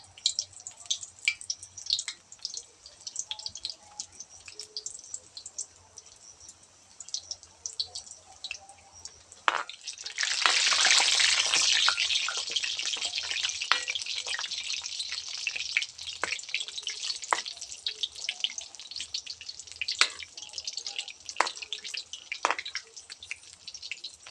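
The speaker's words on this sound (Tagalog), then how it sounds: "Okay, mainit na po yung ating mantika. Maglagay na po tayo sa ating biko toron." Biko turon, banana spring rolls with sticky rice, dropped into hot oil at a farm kitchen: a quiet crackle builds into a steady loud sizzle that keeps bubbling and popping for a long stretch, with no talk.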